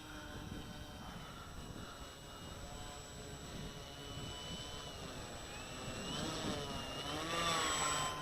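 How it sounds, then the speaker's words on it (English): An E-flite AT-6 1.5m RC warbird plane taxiing through grass, its electric motor whining steadily and rising in pitch toward the end, heard from close by. "So we're gonna show her taxiing through this grass."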